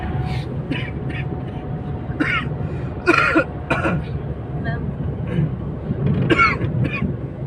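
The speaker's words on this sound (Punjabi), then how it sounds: "ਹੁਣ ਖਾਂਸੀ ਲੱਗ ਗਈ ਹੈ" A person with an itchy, sore throat during hot weather clears their throat and coughs in a few short, rough bursts at a family home in a Punjabi village, over a steady murmur of background noise.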